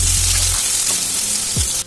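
Sliced onion hits hot oil already tempered with black cumin seeds and a dried red chili, giving a steady close sizzle with a faint stir near the end.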